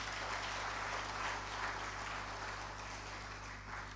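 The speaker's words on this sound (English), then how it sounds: "I think they deserve a resounding applause" Steady, sustained applause from an audience at an opening ceremony in Nigeria, a dense unbroken wash of clapping heard from a distance over a low hum, with no voices.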